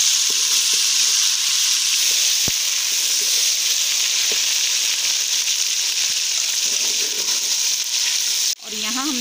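Tomatoes fry in hot ghee in a pan for a pea and beef keema dish, giving a loud, steady, close sizzle throughout and a short clatter of stirring right at the end.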